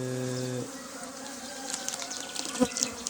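Honeybees at an open wooden hive during a spring inspection, giving a steady close insect buzz with a brief low harmonic drone at the start and scattered louder buzzes and clicks near the end.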